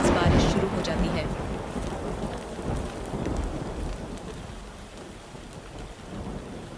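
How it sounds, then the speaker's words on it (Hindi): Heavy rain pours steadily in a sudden storm with thunder, a loud dense downpour that starts strongest and eases slightly, with low rumbling beneath; no talk. "तभी अचानक आसमान में बिजली चमकती है और तेज बारिश शुरू हो जाती है।"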